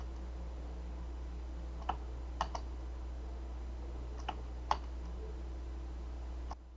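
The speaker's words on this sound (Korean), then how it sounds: "홈키 누르고 스페이스바." A few sparse computer keyboard presses, including the Home key and spacebar, sound as soft, isolated clicks scattered over a quiet, humming background.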